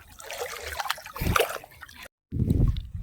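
Feet wade through cold stream water, giving close sloshing and trickling splashes in uneven bursts, cut by a brief silent gap.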